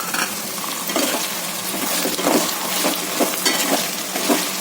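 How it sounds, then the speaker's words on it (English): Potato, peas and ginger garlic paste frying in a pan for veg biryani, a constant close sizzle broken by repeated scraping stirs, with no voices. "Continuously I'm frying all these ingredients since 10 minutes."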